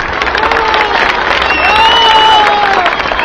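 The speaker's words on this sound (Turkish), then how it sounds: "Evet onları da alkışlayalım önce." Clapping from a crowd mixed with murmuring voices and a few calls, holding steady and growing slightly fuller toward the end.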